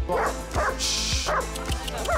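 A German shepherd near a children's playground gives four sharp, loud barks at an even rhythm, each close and punchy, separated by short gaps with faint background noise.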